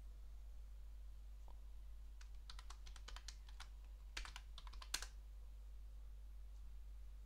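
Typing on a computer keyboard, a short quiet burst of clustered key clicks over a low steady hum, with a few more taps after a pause.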